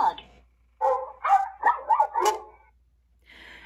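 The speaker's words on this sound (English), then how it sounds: "Dog." A dog barking sound played from a kids' barcode card toy, a short run of several electronic barks close by, followed by a brief faint tone.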